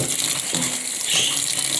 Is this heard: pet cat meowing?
no